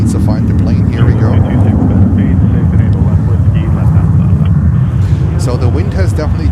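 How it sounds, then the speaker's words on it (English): An American Airlines Boeing 777-9 airliner arrives at JFK airport, producing a loud, continuous, broad jet roar and rumble that stays strong throughout, heard outdoors from the plane-spotting area. "we have a 777-9 coming in, American Airlines"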